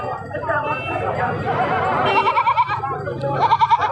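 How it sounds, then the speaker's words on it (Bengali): Several goats bleat in short wavering cries near and farther off, amid a busy crowd of people talking at Kamarkhanda livestock market in Bangladesh. "তো দেখছেন প্রচুর ছাগল আছে"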